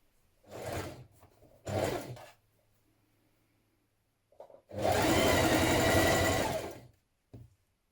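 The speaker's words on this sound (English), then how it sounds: "Now stitch the centre back seam of the collar band together, matching your notches here." A sewing machine stitches the centre back seam of a collar band in short bursts: two brief runs, a pause, then one longer steady run of about two seconds, with small clicks between.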